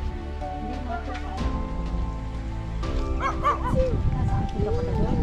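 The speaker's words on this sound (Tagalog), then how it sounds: "May aso. Baka makagat tayo." A dog barks a few times at a distance over steady rain pattering on a surface, while people talk nearby on a farm with fruit trees.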